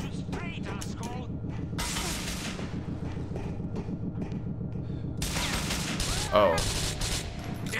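Rapid gunfire bursts and explosive booms from Grand Theft Auto IV, with dense, continuous shooting and loud impacts filling the scene while a voice exclaims briefly over the game noise.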